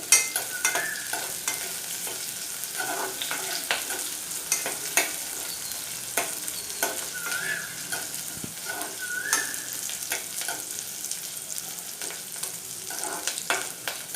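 Tempering with curry leaves roasting in oil for dosakaya dal, a soft continuous sizzle with frequent spoon scrapes and light metallic taps as it is stirred in the pan.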